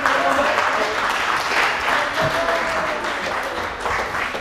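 Spectators at a mountain-bike race podium ceremony for the juniors at Isola 2000 give loud, continuous applause, a dense wash of clapping over a murmuring outdoor crowd, with a voice faintly audible beneath.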